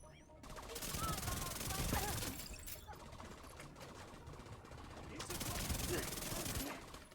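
Chatterbox SMG fire in The Division 2, sustained rapid bursts in two long stretches with a brief lull between, fairly faint under game ambience.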